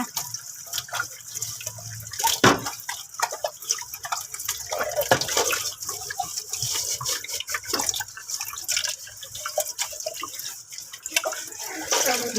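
Tap water runs steadily while tube-feeding equipment is rinsed of dish soap, inside and out, with splashing and dripping that shift as the pieces are handled.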